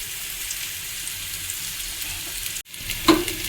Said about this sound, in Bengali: পেঁয়াজগুলো অনেকটাই ভাজা ভাজা হয়ে গেছে, এবার দিয়ে দেবো হলুদ, নুন আর কাশ্মীরি লঙ্কা বা শুকনো লঙ্কার গুঁড়ো।